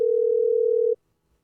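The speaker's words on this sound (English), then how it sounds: "I can hear the ringing" A single steady electronic telephone tone holds for about a second, then cuts off abruptly into near silence.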